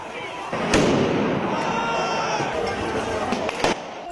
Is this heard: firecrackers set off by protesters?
yes